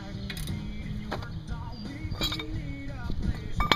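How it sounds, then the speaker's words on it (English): A ratchet wrench fitted with a cheater bar tightens brake bolts during a home brake replacement, giving a close, steady stream of rapid metallic clicks with small clinks mixed in. "Use a cheater on these things to get them torqued down"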